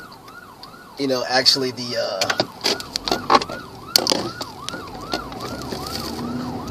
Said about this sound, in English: I gotta get out of the way because the ambulance is coming right now.